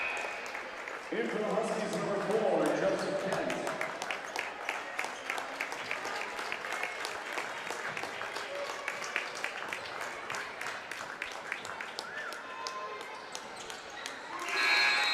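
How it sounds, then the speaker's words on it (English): A crowd at a high school boys basketball playoff game between Eau Claire North and Kaukauna breaks into applause after a made free throw, steady clapping that rises then thins into scattered individual claps, with a commentator talking over it. "he'll get a round of applause here"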